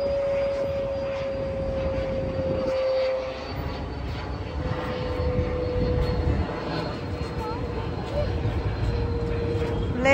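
Airplane passing over Veli beach in Thiruvananthapuram, a steady distant engine drone with a faint tonal whine under outdoor ambience, while a person talks over it.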